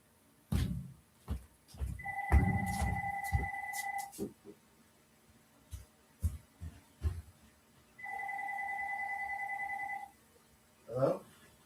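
Indoor telephone ringing in two long electronic trills a few seconds apart, fairly faint and distant as if from another room, with footsteps, shuffling and household knocks around it.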